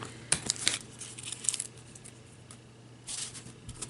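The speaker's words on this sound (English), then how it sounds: "I'm going to cut this sticky stuff off around the edges so it doesn't hinder me when I'm trying to cut" Scissors snip sticky adhesive off the edges of a glitter craft sheet, giving a string of quiet crisp snips and light crinkling crackles, close and alone.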